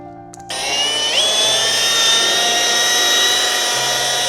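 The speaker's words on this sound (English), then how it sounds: "we're gonna use a rotary with a wool cutting pad" A rotary polisher fitted with a wool cutting pad works a junkyard car hood. It spins up with a sharp rising whine, then holds a loud, close, steady high-pitched drone with no talking.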